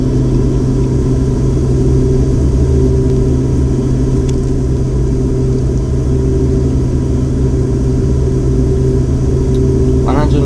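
Twin turboprop engines of a Beech 1900D in the FSX flight simulator, run at full takeoff power, giving a loud, steady droning rumble with constant tones that holds throughout, with no talk over it.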